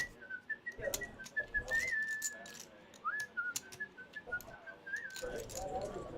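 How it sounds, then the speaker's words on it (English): A person whistles a wavering tune at a live poker table in a card room. The melody is fairly close and moderately loud, with chip clatter and rattles underneath and a brief murmur of voices. "Quit whistling, you Looney Tune."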